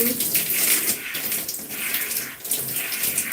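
Water running through hair to rinse out shampoo on wash day, a continuous close splashing flow that swells and dips as the hair is worked, with faint background voice traces.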